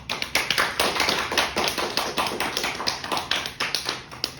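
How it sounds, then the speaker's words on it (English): A small audience applauds after a physics talk on causality and locality: dense, steady clapping with many quick overlapping claps that holds at an even level throughout, with no voices. "let's give Isaac another round of applause"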